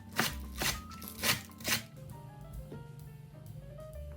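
A knife mincing 15 grams of scallions on a cutting board: four sharp, evenly spaced chops, then quieter scraping and faint kitchen noise, with no voices.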